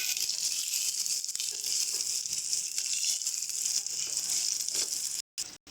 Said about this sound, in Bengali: তো দেখো আমরা কিন্তু ভালো করে মশলা কষিয়ে নিচ্ছি।